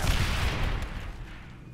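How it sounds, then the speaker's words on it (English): A grenade going off in the sci-fi shooter Aliens: Dark Descent, one loud, dense blast with a rumbling tail that fades over a second or two, with no talking over it. "Grenade!"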